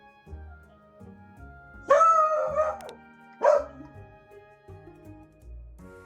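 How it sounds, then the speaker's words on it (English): A dog barks nearby, two sharp barks separated by a short pause, over a quiet indoor background with faint clicks. "I apologize for my dog again"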